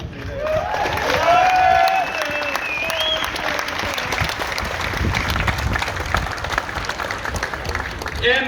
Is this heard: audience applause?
yes